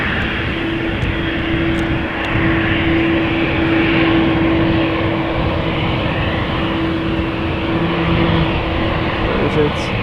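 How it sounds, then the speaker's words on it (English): An Embraer 190 airliner bound for Venice rumbles at Amsterdam Schiphol Airport, a steady, fairly loud roar of jet engines that holds constant throughout. "Looks like there is an Embraer 190 to Venice coming this way."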